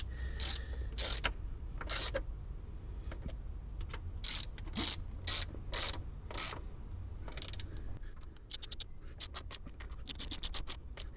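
A hand ratchet tightens rocker cover bolts on a 1.8-litre Mazda MX5, giving close bursts of rapid clicking in several short runs, with faster, denser clicks toward the end and no talk.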